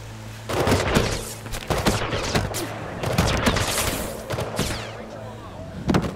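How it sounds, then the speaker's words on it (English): Soldiers fire on the runner in Mirror's Edge Catalyst, with loud close bursts of rapid gunfire and sharp impacts cracking out in uneven volleys among the game's other noise. "You know they're shooting me in the ass?"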